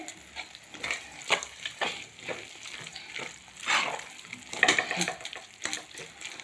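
Spice mix roasting in a pan for eggplant bharta, with soft sizzling and repeated stirring scrapes from a spoon, close and moderately quiet.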